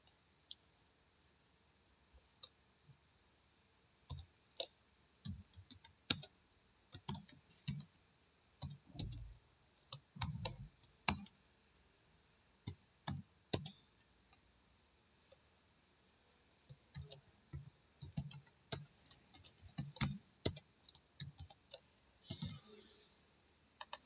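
Computer mouse clicking on a save button while adding students in the Socrative app: scattered single and double clicks, close and crisp, with quiet gaps between them and some soft talk.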